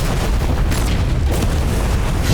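A loud explosion in a film scene with a deep, sustained rumble and dense broadband roar filling the whole stretch, no talk over it.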